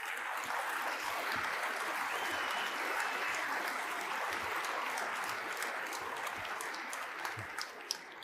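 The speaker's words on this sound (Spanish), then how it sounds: "no sé por qué aplaudís cuando hablo de la hipocresía de los políticos" An audience at a talk on lowering housing prices in Spain applauds in a dense, steady patter that holds evenly for several seconds before easing slightly at the end.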